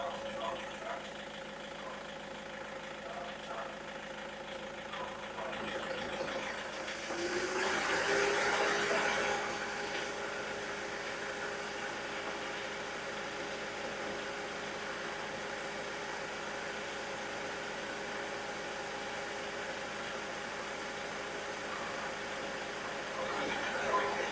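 A 2011 Toyota Innova engine runs steadily at idle, a constant mid-pitched hum with a brief louder swell partway through, heard at moderate distance with no talking.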